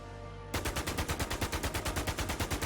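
Automatic gunfire in Infestation: The New Z, a steady, evenly spaced stream of loud shots beginning abruptly and continuing without pause, with no talk over it.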